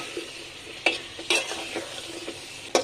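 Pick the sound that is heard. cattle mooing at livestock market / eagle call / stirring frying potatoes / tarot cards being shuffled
stirring frying potatoes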